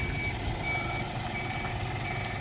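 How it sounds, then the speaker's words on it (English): A truck delivering large static caravans backs down a tight lane, its reversing alarm beeping in a steady repeating rhythm over the constant rumble of the engine. "Nice bit reversing down the lane there."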